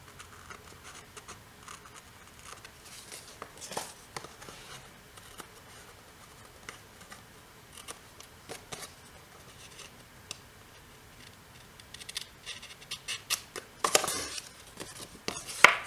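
Paper edges being trimmed for a mini album, with faint scattered snips and scratchy paper rustles that grow denser and louder toward the end.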